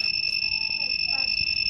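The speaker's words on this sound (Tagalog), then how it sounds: "Ayan, nag-buzzer siya." The electronic buzzer of an MST100 Pro X remote programming tool sounds while a remote is being registered. It is a steady, piercing high tone held unbroken throughout, fairly quiet and close.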